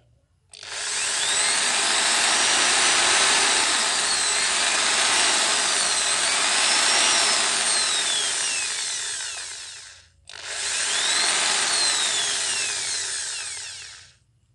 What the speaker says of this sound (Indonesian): kemudian seperti biasa kita juga akan mengujinya dengan bor ya